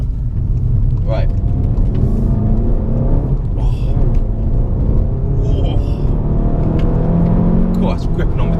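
A SEAT Leon Cupra 300 accelerates hard, its engine roaring loud and steady from inside the cabin with road rumble underneath, while a driver talks over it.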